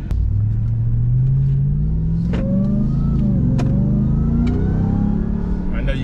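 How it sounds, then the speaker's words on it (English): A 2021 Ram TRX truck engine revs and accelerates with a rising supercharger whine over a steady low rumble, loud and close, with a voice talking over it. "That supercharger is just loud."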